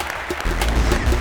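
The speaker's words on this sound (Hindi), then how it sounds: "बहुत सारी तालियां हमारे इन 2 खिलाड़ियों के लिए" Studio audience on a game show applauds two players, a brief, loud, dense wash of clapping that swells quickly and holds.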